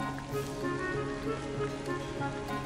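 Steady cold autumn rain falls outdoors at an evening fishing spot, a continuous soft patter under a low hum, with no voices.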